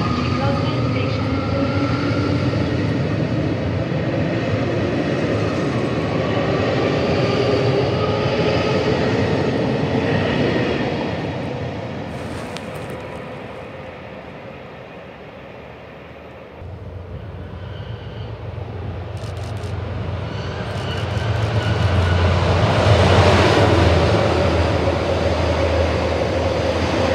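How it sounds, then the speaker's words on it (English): JR Hokkaido train on the Chitose Line departing New Chitose Airport station, a steady rumbling run with a dip in level midway then rising again, under a station announcement. "The special rapid airport train for New Chitose Airport will be departing."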